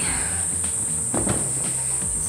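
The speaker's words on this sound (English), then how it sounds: "Cicada's gonna be loud." A cicada in a bush buzzes loudly and steadily, a shrill high drone running through the whole stretch with a few faint thumps and rustles beneath it.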